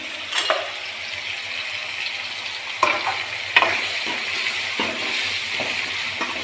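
Chopped onions, tomatoes and a pinch of turmeric fry in oil, a steady close sizzle broken by scraping stirs and a few sharp spoon clinks against the pan.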